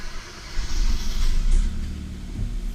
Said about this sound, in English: and now the car is running